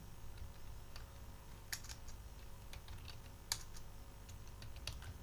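Someone types at a computer keyboard while entering data into accounting software, producing quiet, irregular key clicks with a few sharper taps over a faint steady background hum.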